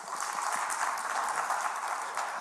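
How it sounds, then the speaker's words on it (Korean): Dense, steady applause from a church congregation during a Sunday worship service, many hands clapping at once at an even level for a couple of seconds, with no voices over it. "박수 한번 줄까요?"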